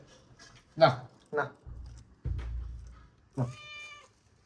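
A house cat meows a few times close by, short rising calls with a longer drawn-out meow near the end, while people talk around it.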